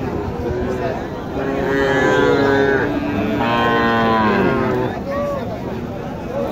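Cattle moo in long, low drawn-out calls, one after another, at an outdoor cattle market, over steady background noise and a distant murmur.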